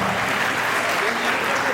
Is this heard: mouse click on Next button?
no